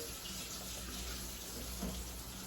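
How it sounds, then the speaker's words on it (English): Hot water from a kitchen sink tap runs in a steady, even hiss, continuous and moderately quiet, with no voices over it. "I like to turn on the hot water"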